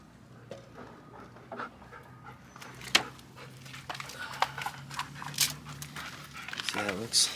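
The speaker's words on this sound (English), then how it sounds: "This dog." A dog pants in a garage during brake and wheel hub work on a Nissan 240SX, quick rhythmic breaths close by, mixed with rustling, clatter and people talking.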